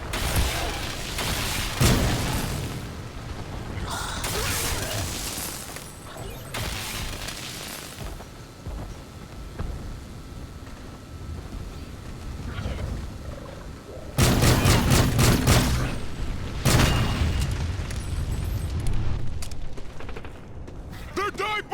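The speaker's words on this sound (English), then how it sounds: "They're dive bombing!" Explosions and heavy gunfire burst out in Extinction during a bomber's dive-bombing run, with loud dense blasts that return in waves. Voices call out under the noise and over it.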